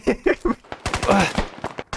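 Gunfire in the military shooter game Squad, several sharp shots and short bursts mixed with people talking nearby.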